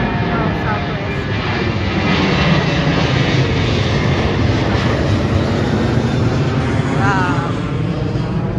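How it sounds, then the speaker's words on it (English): A Southwest passenger plane flying overhead, its jet engine roar steady, loud and broadband throughout as it passes, with people talking faintly beneath the noise. "Another plane."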